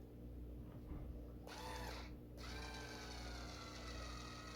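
A Drill Master 4.8V cordless screwdriver runs briefly with a faint whirring motor burst in a quiet room, with a low steady hum underneath.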